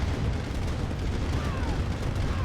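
Tank assault gunfire in Red Alert Remastered during a large free-for-all battle, a dense, continuous rumble of booms and shots rolling without pause, loud and steady with no talk over it.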